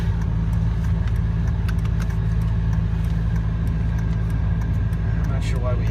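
Cabin air from the fan blows steadily inside a 2004 Dodge Ram while the engine idles, a constant loud rush over a low engine hum that fills the whole stretch with no pauses.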